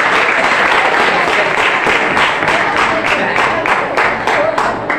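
Loud, steady applause from an audience at a school annual prize-distribution ceremony, dense rapid clapping filling the whole stretch without pause.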